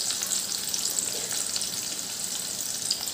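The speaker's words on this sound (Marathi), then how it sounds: "मीडियम फ्लेमवर आपल्याला लसूण आणि अद्रक फ्राय करून घ्यायचं आहे" Crushed garlic and ginger fry in hot oil on a medium flame for green moong dal curry, a steady, fairly soft hiss and crackle of sizzling that runs without pause and without voices.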